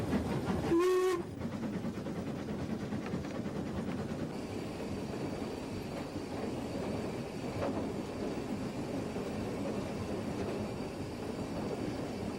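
A steam train rumbles steadily along the tracks beside Loch Eilt in Scotland with a rhythmic clatter, opening with a short, sharp whistle blast.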